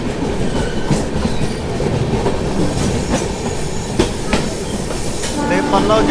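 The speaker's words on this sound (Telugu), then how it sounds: "సో మన పక్కన వెళ్తాం కదా, ఆ ట్రైన్ కానీ చూసుకుంటే మనకు వచ్చేసి సికింద్రాబాద్ దానాపూర్." The Secunderabad–Danapur train passing alongside the Tamil Nadu Express near Balasore Road, heard from aboard: steady loud rumble and rattling wheel clatter with metallic squeals and a brief high whine near the end.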